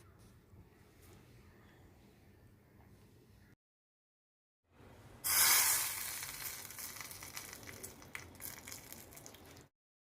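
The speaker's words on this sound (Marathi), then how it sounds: "त्यात थोडं जिरं घाला तसेच लाल सुक्या मिरचीचे दोन तुकडे घाला आणि हा कडकडीत तडका सूपवर टाका" Hot cumin seeds and dried red chilli pieces tempered in oil are poured onto sprouted moong soup, setting off a loud, bright sizzle that bursts in after a brief silence and then crackles steadily, slowly fading.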